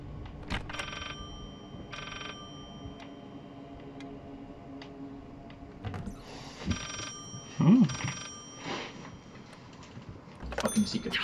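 Old telephone ringing in the horror game Layers of Fear, a short bursts of bell ringing with pauses, over a soft ticking clock and quiet ambient drone, with brief speech near the end.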